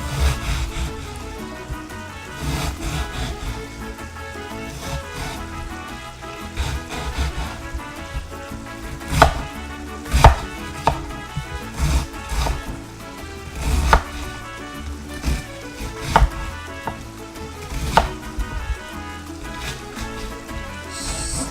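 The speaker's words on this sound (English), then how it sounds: "Okay, so I'm just going to cut up the vegetables here." Knife chopping vegetables on a cutting board for vegan chicken enchiladas, a run of quick, close, uneven taps and thuds with brief pauses between strokes, no talking.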